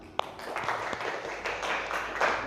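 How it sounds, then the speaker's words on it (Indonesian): Students in a classroom applaud a group after its presentation, a brief burst of many hands clapping at once that rises and holds for a couple of seconds. "tepuk tangan untuk kelompok Dio"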